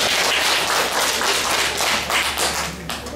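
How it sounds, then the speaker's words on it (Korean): Seminar audience at a care-facility evaluation preparation session applauding, a dense, steady roll of hand claps at moderate volume, fairly close, running the whole time with no talk. "그러면서 박수 한번 드릴게요."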